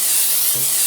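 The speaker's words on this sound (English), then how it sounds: "I use Pam butter spray because I like a little extra butter flavor." Pam butter-flavored cooking spray hisses from an aerosol can, one steady spray burst lasting about a second while preparing an apple pie, loud and close.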